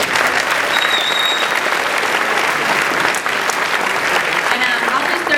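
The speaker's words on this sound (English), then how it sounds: "big round of applause" Audience applause at a Blizzard Entertainment panel at San Diego Comic-Con 2014, with dense, sustained clapping from a large crowd filling the hall at a steady loud level throughout, without a pause.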